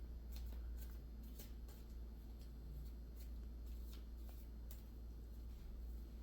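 Tarot cards being shuffled in repeated soft riffling bursts, close and quiet over a steady low background hum, with no talking.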